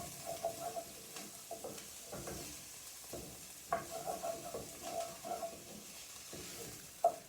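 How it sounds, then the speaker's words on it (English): Garlic sizzles and fries with onions in a pot as it's stirred for about thirty seconds while making creamy potato soup, soft steady crackle broken by scraping stirs and occasional utensil clinks, no voices. "add that garlic in, and we're just going to stir it for roughly about 30 seconds until it's fragrant"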